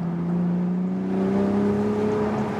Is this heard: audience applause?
no